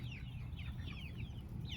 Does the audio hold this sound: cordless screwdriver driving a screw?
no